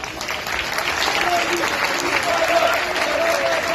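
Continuous crowd applause from an outdoor festival audience in a town square in Komotini, with faint voices mixed into the steady wash of clapping.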